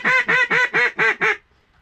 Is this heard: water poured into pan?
no